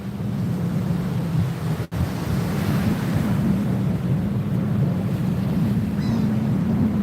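Ocean surf at a beach where people are fishing rolls in a constant, loud roar mixed with wind buffeting the microphone, broken once by a brief dropout.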